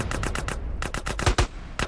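Rapid automatic gunfire in a first-person remastered GTA San Andreas video game rattles in a steady burst of sharp repeated shots, loud and continuous, with no voices.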